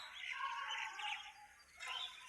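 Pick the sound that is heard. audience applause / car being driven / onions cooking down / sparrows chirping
sparrows chirping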